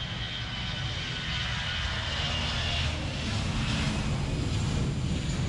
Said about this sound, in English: It's cool to see the airplanes.